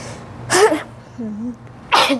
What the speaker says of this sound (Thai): อุ้ยจามเลย